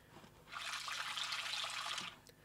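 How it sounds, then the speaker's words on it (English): Soft running water splashing steadily for about a second and a half from a small fountain in an Unreal Engine 4 game scene, fairly quiet and heard alone. "There is a fountain with water sound."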